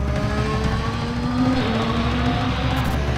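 Red Bull Formula 1 car lapping Silverstone with Max Verstappen driving, a high-pitched engine whine rising and shifting in pitch as the car speeds past at close range, steady and loud.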